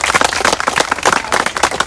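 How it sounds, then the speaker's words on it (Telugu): A crowd of students claps loudly for their college principal at a gathering, a dense and continuous patter of applause filling the short moment close by. "one second clap for the principal"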